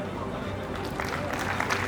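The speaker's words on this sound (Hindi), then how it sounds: "आप सभी की तालियों का साथ चाहूंगी।" Audience applause at a community honours ceremony, dense clapping that swells partway through and holds steady, with speech mixed in over the crowd.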